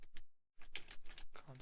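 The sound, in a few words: typing on a computer keyboard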